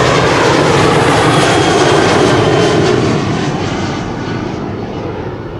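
Jet airliner departing from the Polderbaan runway at Amsterdam Schiphol, a loud, steady broadband engine roar that gradually fades as the aircraft climbs away, with no talking.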